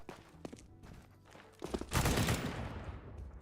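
CS:GO gunfire erupts after some quieter in-game clicks and thumps, a loud close burst of shots trailing off into echoing reverb.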